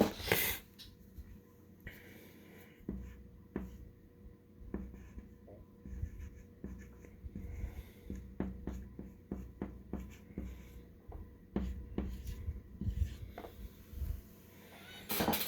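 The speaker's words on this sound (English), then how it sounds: "So let's write that on the board." Chalk or marker writes on a classroom board during a sixth-grade English lesson, with a quiet run of scratchy strokes and tapping marks that go on steadily for about fifteen seconds, faint with soft breathing.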